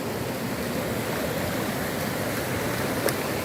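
A stream of water flows near Kohala waterfall in Muzaffarabad, Azad Kashmir, giving a steady, fairly close rushing wash that keeps the same level throughout, with no voices over it.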